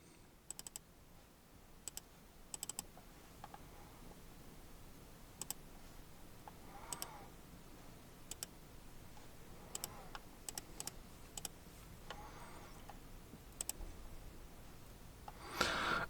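Someone types on an EPOMAKER Feker Galaxy80 computer keyboard: faint, scattered clacky keystrokes in short bursts and single taps, with pauses between them and a louder clatter at the very end.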